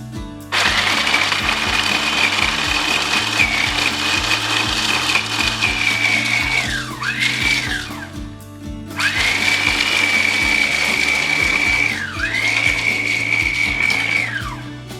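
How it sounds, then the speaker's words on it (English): A blender whirs loudly, grinding and crunching crisp chunks of pork crackling in two long runs, each winding down with a falling whine before stopping. "I'm just going to pour in some of that Crackling here into my blender here"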